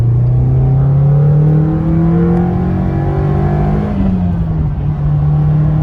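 A 1991 Nissan Sentra SE-R engine pulling hard under acceleration, a loud, steady rising drone heard from inside the car, with a brief dip as it shifts near the end.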